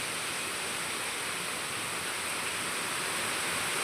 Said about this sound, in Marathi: बघ किती घाण पाणी सगळं सुटलं